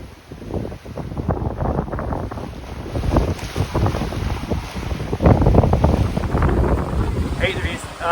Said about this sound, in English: Hate to be sailing into this wind. Sounds brutal.